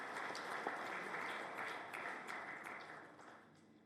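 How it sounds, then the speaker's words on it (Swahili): An audience at a foundation building opening and memorial conference claps together, a faint, dense patter of many hands heard from a distance that slowly fades over a few seconds. "Kwa naomba wote tuwapigie makofi kwa kazi hiyo nzuri."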